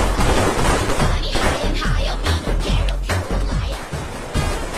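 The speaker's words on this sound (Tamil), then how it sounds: "வேலைக்கு போனாலும் வெடி போடுறான்" Firecrackers bursting in a rapid, continuous string of loud cracks and booms, dense overlapping pops with no pauses, filling the whole stretch at close range.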